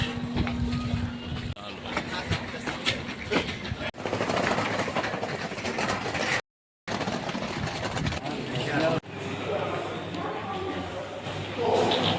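A Dubai train rumbles steadily along the tracks with a constant mechanical roar and rattling, loud and close, with a brief silent gap partway through.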